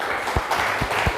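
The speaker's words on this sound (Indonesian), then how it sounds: "Tepuk tangan buat kelompok 1" Brief clapping from students in a classroom after a group presentation, a short patter of hands with a few louder claps, heard close and fairly loud.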